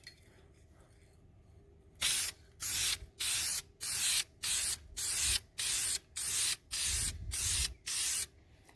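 A spray paint can hisses in ten short, even bursts as a second coat goes onto BMW brake calipers, each spurt loud and close with brief pauses between, after a couple of seconds of quiet.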